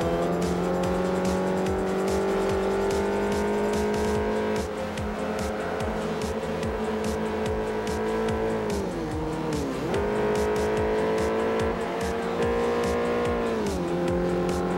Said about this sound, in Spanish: ¿Tú escuchas el coche?